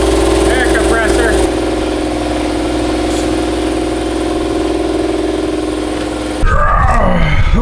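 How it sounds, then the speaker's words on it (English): An air compressor runs in a garage with a loud, steady mechanical drone and a throbbing low hum that continues throughout, with a brief burst of other noise near the end. "I should probably fill up the air compressor"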